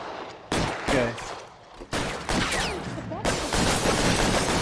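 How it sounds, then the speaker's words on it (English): Gunfire in the L.A. Noire video game breaks out in sharp bursts of repeated shots amid a firefight, while a player speaks briefly. "Ci sparano, ci sparano!"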